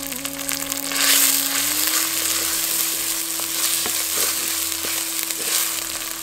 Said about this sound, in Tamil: அடுத்து நம்ம தட்டி வச்சிருந்த சின்ன வெங்காயத்தை சேர்த்து நல்லா வணக்க ஆரம்பிச்சிடலாம்